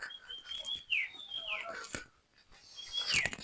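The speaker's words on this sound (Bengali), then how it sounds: "এগুলো হলো পাখির ডাক" Clear whistling wild bird calls repeat a few times, with sharp descending chirps close by against a soft background, in Tengragiri Wildlife Sanctuary, Barguna, Bangladesh.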